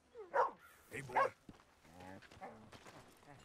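A dog in the video game Red Dead Redemption 2 gives two sharp, loud barks close by, followed by a voice talking.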